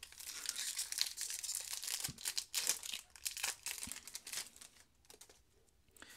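A Pokemon Darkness Ablaze booster pack is torn open up close, its foil wrapper crinkling and ripping in a few quick bursts before fading to quieter rustles, with no voices.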